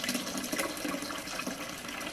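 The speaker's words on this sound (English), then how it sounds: "I'm just going to add this water, and this is just bottled water that we buy" Bottled water poured into a wine kit fermenter, a steady close splashing pour that runs unbroken the whole time with no talk.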